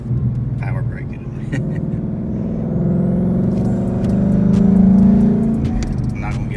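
Engine of a 2019 Ford Mustang S550 PP2 with a six-speed manual, running on E85, rumbling and rising in pitch as it revs from inside the car, with people talking over it.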